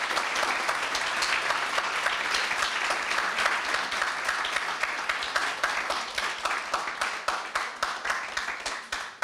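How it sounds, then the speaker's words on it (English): Sustained applause from an audience at a PhD defence in a university setting, steady dense clapping that carries throughout before thinning into a few last claps near the end. "Stormy applause, please."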